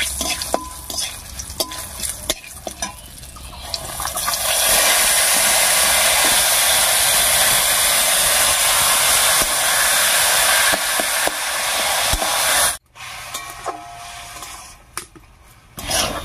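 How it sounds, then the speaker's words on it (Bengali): Taro leaves hit hot oil tempered with bay leaves, panch phoron and black cumin, setting off a loud sustained sizzle that swells after a few seconds of light crackling, with scraping stirs, a brief break and renewed frying. "ফোড়নটা ভাজা হয়ে গেছে, এর উপরেই নামিয়ে রাখা কচু শাকটা দেবো"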